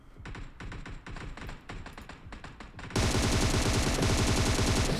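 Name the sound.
gunfire in video game PUBG Mobile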